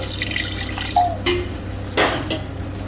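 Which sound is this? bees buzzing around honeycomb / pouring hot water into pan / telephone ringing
pouring hot water into pan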